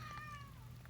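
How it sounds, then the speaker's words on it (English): A house cat meows to be let outside, a quiet, brief cry at the start, faint in a calm room. "I'm sure you can hear my cat meowing. She wants out."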